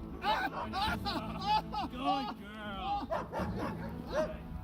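A dog barks, yips and whimpers during protection dog training, the sounds close and excited and mixed with a handler's voice talking and urging throughout.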